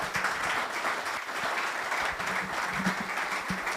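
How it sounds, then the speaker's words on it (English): Steady clapping from an audience at an investors' conference, dense and continuous throughout, with no speech on top. "A round of applause."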